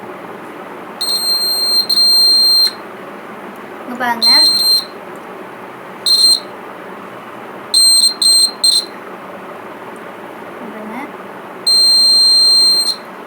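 A homemade battery-powered door alarm buzzer sounds in short, loud, shrill bursts, some stuttering, separated by pauses, while someone speaks close by between the beeps.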